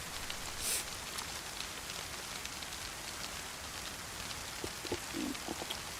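Rain falls steadily in the DayZ video game, a soft continuous patter of drops with no speech over it.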